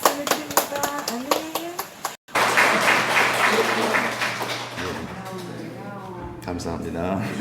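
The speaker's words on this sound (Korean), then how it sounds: "영광의 박수를 드립니다." Warm applause from a church congregation during a Sunday service swells and holds for several seconds after a short sung or spoken phrase, then tapers off.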